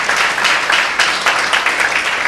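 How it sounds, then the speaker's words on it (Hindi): Loud congregation applause rings out at a church meeting, a dense, steady burst of clapping close by with no talking over it. "जोरदार तालियां।"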